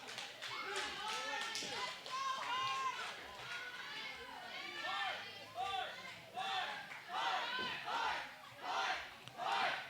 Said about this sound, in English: Crowd chanting for Hart.